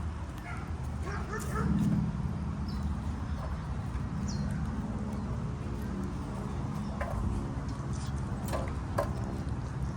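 Dogs outdoors giving a few scattered barks and yips with a whimper in between, heard at moderate distance under the chatter of a child and an adult.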